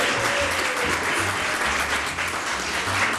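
An audience at a school rating recognition celebration applauds elementary schools, steady broadband clapping filling the hall throughout, with a low rumble underneath and no clear speech.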